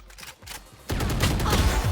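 Gunshots in the video game Valorant, a quiet lead-in followed by a sudden loud burst of rapid fire that continues to the end.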